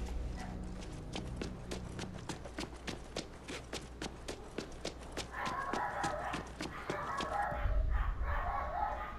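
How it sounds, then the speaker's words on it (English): Dogs barking in the video game Dead Island 2 in its Beverly Hills area, a rapid rhythmic string of sharp barks and clattering hits at moderate volume, with a noisy rise in the background toward the end. "Oh dang, dogs are going crazy down there"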